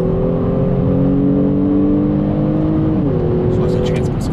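A 2020 Kia Stinger GT Limited 20th Anniversary accelerates hard, its engine note climbing steadily in one gear before a quick, seamless upshift drops the pitch and it pulls again, loud and close inside the cabin.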